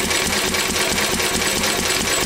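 An engine runs smoothly with a fast, even chugging pulse, loud and close, holding steady throughout with no talking.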